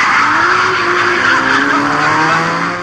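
On a public road, a drifting car's tires squeal and skid steadily under a revving engine, loud and close throughout.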